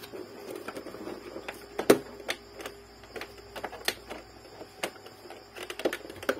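An Epson L-series inkjet printer (L120/L220 family) powering on after a paper jam repair, giving a series of sharp mechanical clicks and ticks at irregular intervals, close and alone.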